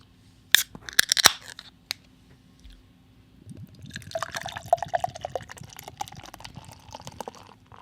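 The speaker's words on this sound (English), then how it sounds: "Let's crack open the coconut milk stout from Left Hand." A bottle of Left Hand coconut milk stout is cracked open with sharp clicks and snaps, then beer is poured into a glass, a steady frothy gush and fizz that runs for several seconds close by.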